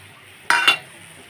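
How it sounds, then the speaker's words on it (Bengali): A lid comes off a pan of small-fish curry, followed by a quick pair of metallic clinks and scrapes as it is stirred, short and close in an otherwise quiet kitchen. "ঢাকনাটি খুলে এখন আমি ছোটো মাছের চচ্চড়িটা আবার নেড়ে চেড়ে এর মধ্যে ধনে পাতা দিয়ে দেব"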